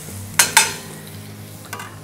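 Scallions being sautéed in a pan for spicy ramen: two quick, close stirring scrapes, then a softer one later, over a low, steady sizzle.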